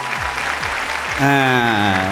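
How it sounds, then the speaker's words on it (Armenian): Studio audience at a stand-up comedy show breaks into applause, a steady clapping wash under which a voice begins speaking loudly near the end. "եկեք ևս մեկ անգամ ծափահարենք"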